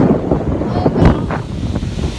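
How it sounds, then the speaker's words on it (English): Strong wind buffets the microphone with a loud, rumbling roar, continuous and gusty, with faint voices caught underneath. "So windy."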